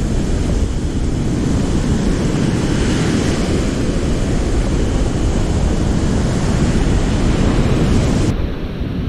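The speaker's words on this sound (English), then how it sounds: "Still pretty rough, windy, waves ain't let up." Rough surf and strong wind on a beach along the Treasure Coast, a steady loud roar of breaking waves mixed with wind buffeting the microphone throughout, with no voices.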